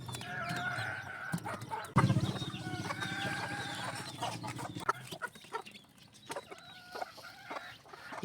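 Clucking from a broody hen, an ARL right nose brood hen with newly hatched chicks, with low murmuring clucks and a few louder calls over a busy background for most of the clip, fading after the fifth second.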